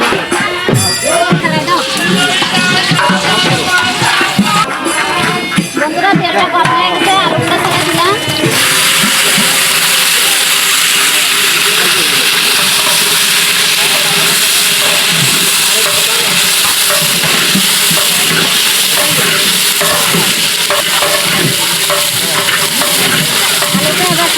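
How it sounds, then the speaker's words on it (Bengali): Potatoes fry in hot oil in a wok, giving a loud, dense sizzle that runs continuously. A voice talks over the busier opening stretch, then the frying carries on alone. "তেলটা গরম হয়ে গেলে এবার আলু ছেড়ে দেবো"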